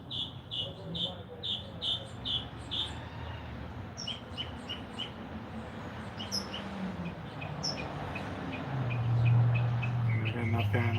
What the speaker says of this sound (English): Record the bird and do a remix.